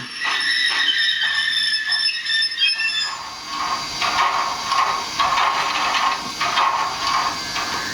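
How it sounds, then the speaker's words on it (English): An HO-scale Rapido Royal Hudson model steam locomotive's brake sound: a high, steady squeal rings out at first, then gives way to broadband hissing and repeated metallic scraping, close and fairly loud. "if you stop, you'll hear the brake squeal again."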